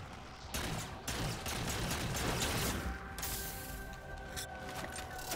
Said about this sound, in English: now flank these guys with the scatter shots